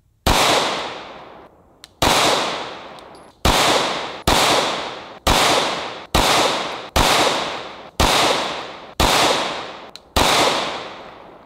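A nail gun fires into a padlock in nine sharp, loud bangs at roughly one-second intervals, each followed by a short ringing decay, with no talking.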